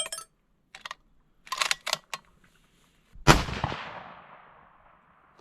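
A single loud rifle shot from a 6 ARC rifle during load testing, a sharp crack with a long fading echo, preceded by a few soft clicks and handling taps.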